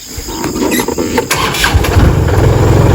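A tractor fitted with a Stevens attachment cranks and catches, its engine sputtering into an uneven, loud running rumble close by, with no one speaking over it.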